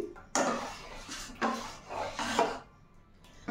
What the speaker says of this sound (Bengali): আর একটুখানি দুধ দিয়ে ভালোভাবে ব্যাটারটাকে নেড়ে চেড়ে মিশিয়ে নিচ্ছি